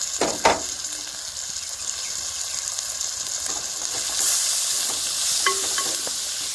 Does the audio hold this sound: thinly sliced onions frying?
yes